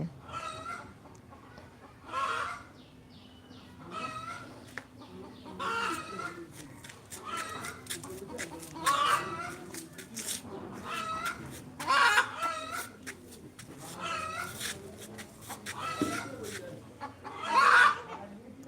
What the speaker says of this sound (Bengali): মুরগির চিল্লানো কি শোনা যাচ্ছে